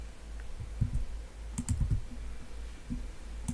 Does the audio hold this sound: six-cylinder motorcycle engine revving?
no